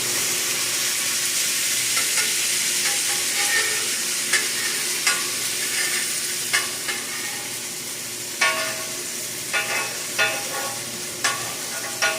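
Burgers fry on a hot grill with a steady, close broadband sizzle and crackle, punctuated by sharp scraping and spatula clicks every second or so; no one talks.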